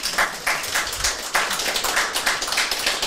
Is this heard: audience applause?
yes